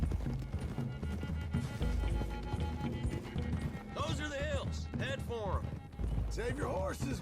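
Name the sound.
horses galloping in video game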